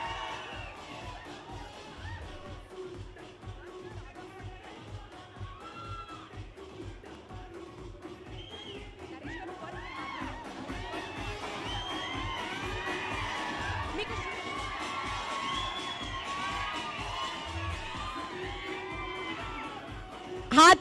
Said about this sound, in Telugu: with a huge round of applause ladies and gentlemen